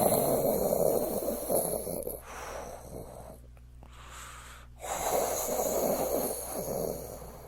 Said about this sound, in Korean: 드르렁 드르렁 하는 소리는 틀림없이 코를 고는 소리였습니다.